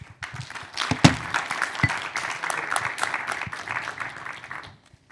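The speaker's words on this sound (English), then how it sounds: "that applause was actually all for you" Applause from a conference audience at a freedom-themed think tank event, thanking a departing general; the clapping rises sharply with a few loud close claps near the start, holds steady for several seconds, then tapers off.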